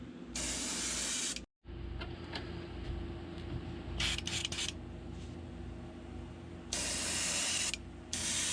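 Airbrush spray painting a light coat onto a fishing swimbait, close hissing bursts of varying length separated by short breaks and quieter background, no talking.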